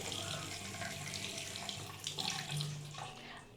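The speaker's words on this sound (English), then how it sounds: "I wash my face" A water tap runs steadily into a sink as someone washes their face, a soft continuous splashing and trickling stream heard close and alone.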